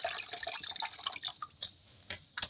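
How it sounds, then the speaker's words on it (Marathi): Murky rinse water from washed rice draining away, heard as irregular drips and small splashes of liquid into a sink, close by and fairly quiet, with sparse separate plops near the end. "इतकं खराब पाणी निघलं बा बास तांदळाचं."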